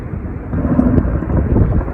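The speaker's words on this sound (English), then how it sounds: "Helicopter just flying over." A steady low engine drone of a helicopter passing overhead a tidal river, the Bristol Avon, constant and fairly loud with wind buffeting the microphone.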